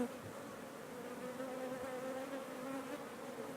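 A large honeybee colony hums steadily in an open hive box, a dense, even drone of many bees close by with no talk.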